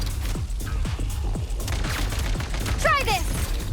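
An electro grenade blows up in Genshin Impact's snowy Everwinter setting, a loud crackling burst of rapid popping blasts layered over dense game effects and a steady low rumble.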